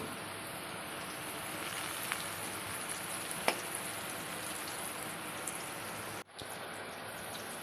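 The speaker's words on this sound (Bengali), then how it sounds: "তো আলুটা যখন একদম সুন্দর লাল লাল করে ভাজা হয়ে যাবে, তখন এটাকে আমি উঠিয়ে রেখে দেব।" Steady crackling sizzle of potatoes deep frying in hot oil, close and continuous with a brief dropout near the end.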